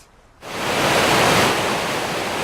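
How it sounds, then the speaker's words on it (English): The East Fork River in Transylvania County runs high in a flood, its rushing water a loud, steady roar that starts suddenly after a brief quiet moment and holds without pause. "This river is running too high."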